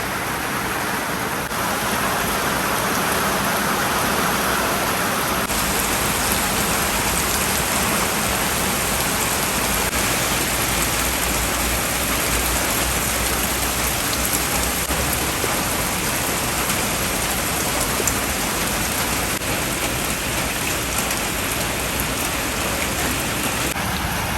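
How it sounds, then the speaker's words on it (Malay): Steady, dense rain falls throughout, a continuous broadband hiss of drops on surfaces with no voices, unchanging in loudness from start to finish. "Yeay, hujan."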